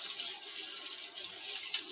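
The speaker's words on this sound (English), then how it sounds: "I'm just going to pass it through some water" Tap water running steadily through a kitchen sieve while rinsing food, a close, continuous bright splashing hiss with no pauses.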